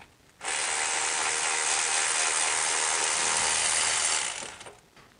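Ratchet wrench working a 16 mm oil pan bolt on a BMW E83 X3, a continuous rapid clicking whir lasting about four seconds, close and fairly loud, with no talk.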